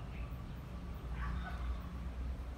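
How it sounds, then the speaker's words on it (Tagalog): Dogs bark and yip in a jungle setting, fairly distant and mixed into steady low outdoor noise, with a few brief higher calls standing out across the short stretch. "Mga aso."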